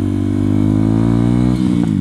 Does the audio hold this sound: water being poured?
no